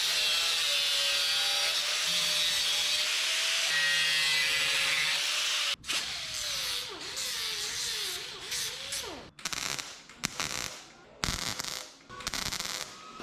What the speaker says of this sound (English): Cut another chunk out of our fender.